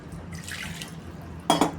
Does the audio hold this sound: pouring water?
yes